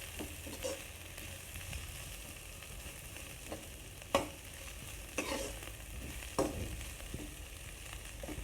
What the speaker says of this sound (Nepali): बन्दालाई एकछिन भुट्न दिनुपर्छ।